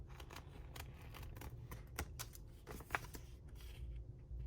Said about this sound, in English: cut the holes right out of this actual printout